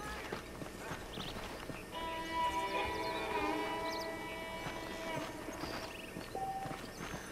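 Rhythmic clip-clop of horse hooves walking at a steady pace in the video game Red Dead Redemption, with a soft musical background underneath.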